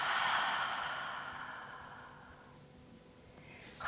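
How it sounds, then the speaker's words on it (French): One long, deep exhale through the mouth during a guided breathing exercise. It is close and breathy, strongest at the start and fading gradually over several seconds, with no talking. "Une grande expire par la bouche."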